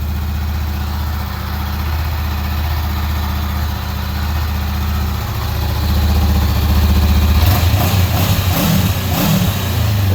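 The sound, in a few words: 2019 Honda CBR500R parallel-twin motorcycle engine idling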